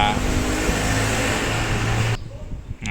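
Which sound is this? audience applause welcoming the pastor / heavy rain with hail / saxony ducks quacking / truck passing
truck passing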